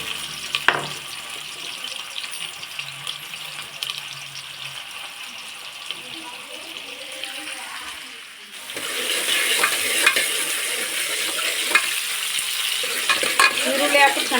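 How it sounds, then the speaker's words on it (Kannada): Onions fry in oil in a pressure cooker, a steady close sizzle with stirring scrapes that grows louder and brighter about halfway through, with no voices. "ಈರುಳ್ಳಿ ಹಾಕಿ ಚೆನ್ನಾಗಿ ಫ್ರೈ ಮಾಡಬೇಕು."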